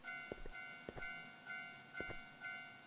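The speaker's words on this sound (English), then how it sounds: "Oh, there's the train." A train passes a level crossing in a horror video game: steady ringing tones hold beneath several sharp, evenly spaced clunks of wheels, moderately loud with no talking.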